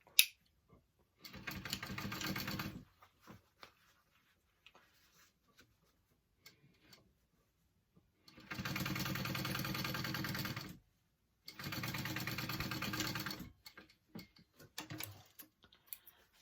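A sewing machine top-stitches a backpack in three separate runs of steady, rapid mechanical whirring, with quiet gaps and small handling clicks between them.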